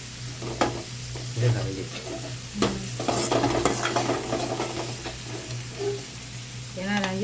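Onions sauté in a pan with a continuous sizzle under scattered stirring clinks and scrapes, while voices speak intermittently over the cooking.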